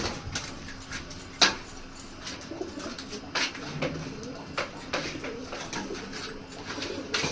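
Jiré dobaaz pigeons coo in soft, repeated low calls close by, mixed with scattered clicks and flutters of movement in a quiet loft, with no talking.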